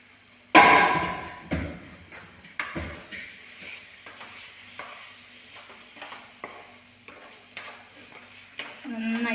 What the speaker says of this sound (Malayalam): ഇളക്കിയിട്ട് മസാല എല്ലാം മീൻ പിടിക്കുന്ന ലെവലിൽ ഇളക്കി കൊടുക്കണം